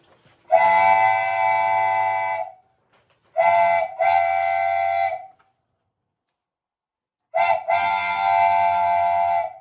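A train whistle blows three long, steady blasts separated by pauses, loud and clear with no other sounds.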